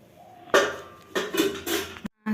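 Ceramic plates clink and clatter as they are set out and covered for serving, a handful of distinct knocks and scrapes at close range with short pauses between them.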